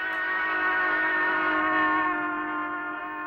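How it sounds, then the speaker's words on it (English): A locomotive steam whistle holds one long, steady blast with rich harmonics and a slight sag in pitch midway, heard at moderate distance without voices. "locomotive steam whistle sounds higher when it is approaching and lower when it's receding"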